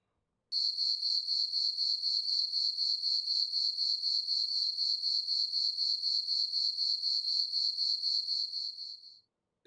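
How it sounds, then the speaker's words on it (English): A cricket chirps alone in a fast, even, unbroken trill for about nine seconds, close and clear against complete silence, then stops abruptly. "It's all you hear is crickets."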